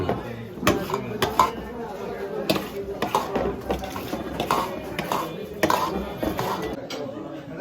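Kitchen knife chopping tomatoes at a tea-stall snack counter while making jhalmuri, with irregular clicks of utensils and dishes against ongoing chatter.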